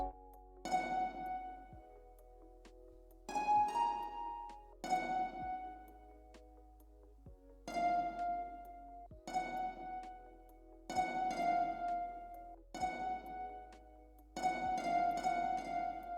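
Plucked harp notes in short bursts, each phrase ringing out then pausing, a bright melodic line played slowly and alone.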